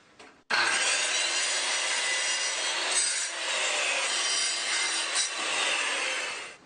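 A circular saw cross-cuts wood guided by a jig of two glued wooden pieces, producing one loud, steady whining cut that runs close and continuous for about six seconds.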